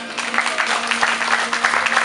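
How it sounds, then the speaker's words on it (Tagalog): Wedding guests clapping at a reception, a steady patter of many hands at moderate volume with no voices over it. "Ba't ang hina ng palakpak niyo?"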